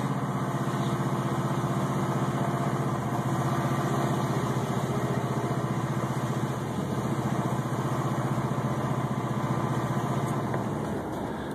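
A Ford Crown Victoria engine, out of fuel, idles unevenly with a steady, loud mechanical drone and a slightly rough, sputtering texture, with no talking.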